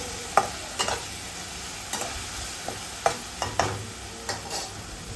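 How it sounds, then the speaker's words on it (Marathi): Green chilli paste sautéed in ghee in a pan, with a soft steady sizzle and irregular spatula clicks and scrapes as it is stirred, no voices. "तुपावरती थोडंसं परतून घ्यायचं, म्हणजे मिरचीचा तिखटपणा कमी होतो."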